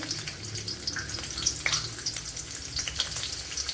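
Seven or eight garlic cloves and a small piece of ginger fry in about one and a half tablespoons of coconut oil, giving a close, steady sizzle dotted with sharp crackles and spits.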